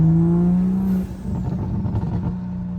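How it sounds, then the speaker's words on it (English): A powerful 720 wheel-horsepower Toyota Supra GR engine in sport mode drones at a steady pitch, then drops and rumbles with a throaty burble, close and loud. "Right now we're in sport mode, so obviously you can hear the car,"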